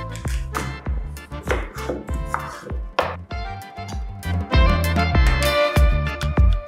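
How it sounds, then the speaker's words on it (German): A knife chops sweet potato on a cutting board for a sweet potato lentil curry, with sharp, close, irregular thuds that come in quick bursts, each stroke clear and distinct. "Zuerst wird natürlich wieder einiges geschnippelt."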